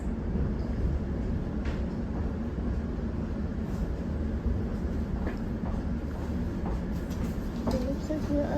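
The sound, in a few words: Elizabeth line train running to Heathrow Terminal 5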